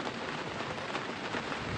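Rain falls in a steady, dense hiss that soaks everything outdoors, continuous and fairly loud from start to finish.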